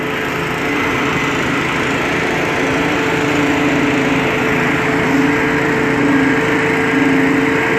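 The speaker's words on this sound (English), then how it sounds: "That's the exhaust fan for the ventilation." A firefighters' portable ventilation exhaust fan, engine-driven, runs loud and steady at a house fire on a city street, a continuous high-pitched motor drone with a buzzing tone throughout.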